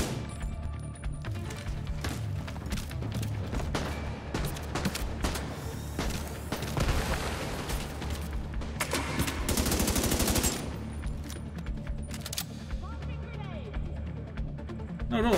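Sustained machine gun fire in The Division 2 on PS5, dense rattling bursts layered with game effects, loud throughout with a heavy stretch around the middle, while someone talks over it.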